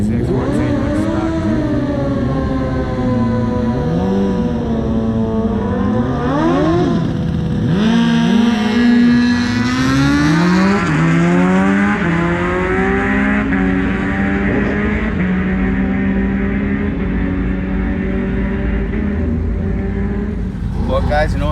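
A ZX14 and a Hayabusa sport motorcycle drag race at Atco Dragway, their engines loud and continuous, rising and falling in pitch through gear changes as they accelerate. A person talks over the engine noise.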